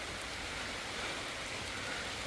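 Steady rain pours down over a mangrove, a dense, even hiss of water with no breaks or voices throughout.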